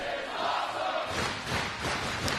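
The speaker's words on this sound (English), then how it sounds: "Very appreciative crowd, and understandably so." An arena crowd at a Ring of Honor wrestling match between Roderick Strong and Jay Lethal swells into a broad, loud roar of cheering after a quieter, murmuring start.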